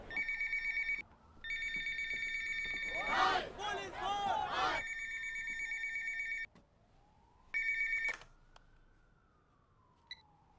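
A telephone rings in repeated electronic bursts with steady pulsing tones, broken by a wavering siren-like sweep and a dense rattling clatter, then one more ring.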